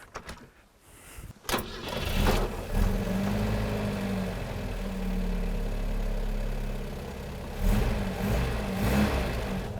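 After a couple of clicks, a car engine cranks and catches, then settles into a steady running rumble with slight rises in revs, heard up close.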